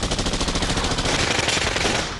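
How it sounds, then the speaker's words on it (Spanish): Rapid, loud automatic gunfire rattles in dense bursts throughout, heard close during the armed hostage rescue at the Japanese embassy in Peru. "El tiroteo se intensificó."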